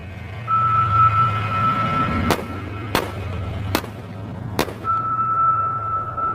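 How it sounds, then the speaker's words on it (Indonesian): Four sharp gunshot-like cracks fired inside a car in The Mist, evenly spaced over a low rumbling drone, with a steady high tone before and after. "Lalu terdengar 4 kali tembakan dari dalam mobil."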